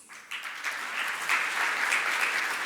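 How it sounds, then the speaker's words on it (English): A summit audience gives a speaker a welcoming round of applause, a steady, even wash of clapping that swells and holds as he walks on stage. "Can we please have him on stage with a huge round of applause,"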